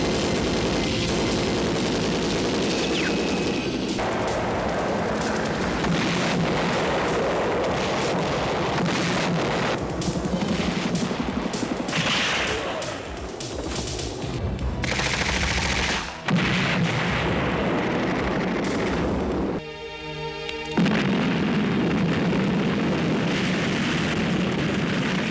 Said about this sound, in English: Instead, we get explosions in the jungle